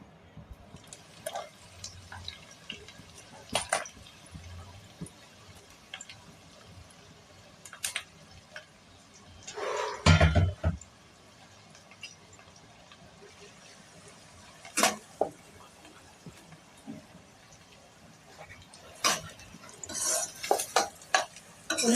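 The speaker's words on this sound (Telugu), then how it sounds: "ఇప్పుడు ఉల్లిపాయలు వేసేద్దాం" Chopped onions dropped into hot ghee for a Lucknow-style chicken curry, giving intermittent sizzling with clanks of a spoon against the pan and a loud burst as they hit the fat, then quieter stirring.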